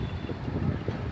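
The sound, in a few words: cool wind blowing while cycling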